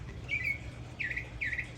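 Small birds near backyard feeders give three clear, high chirps, each short and bright over a low, steady outdoor background.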